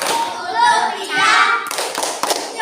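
Children in a fourth-grade classroom chant, then clap in a quick rhythmic burst of sharp hand slaps, close and moderately loud.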